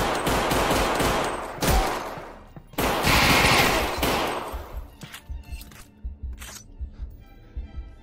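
Gunfire in a Half-Life John Wick mod video game, loud bursts of rapid shots in two long volleys with a gap between, then scattered single cracks and clatter that trail off.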